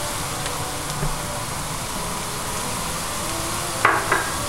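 Food seasoned with ground dried lemon, black pepper and salt is stirred in a hot pan, a steady close sizzling hiss with a couple of short scraping knocks near the end.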